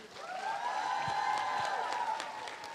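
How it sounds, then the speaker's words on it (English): An audience at the Shillong Talks 2019 event gives a round of applause, with soft, scattered clapping under a sustained ringing tone. "Can we have a huge round of applause,"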